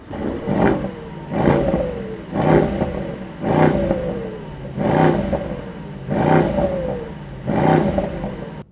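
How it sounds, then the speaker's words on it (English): A 2024 Mercedes-AMG GT63 Coupe engine revs hard in repeated bursts, about seven sharp roaring blips separated by brief dips, loud and close with no talking. "First is the 2024 Mercedes AMG GT63 Coupe. Listen to that engine."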